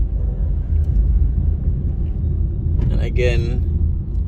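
A car drives along Eastwood Park Road in Jamaica, its engine and road noise forming a steady, close low rumble inside the cabin while a person speaks briefly over it.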